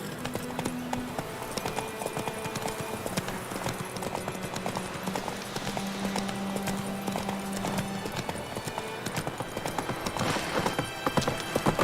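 Roach, Geralt's horse in The Witcher 3, gallops with a continuous rapid clip-clop of hooves, fairly close, over game music with little talk.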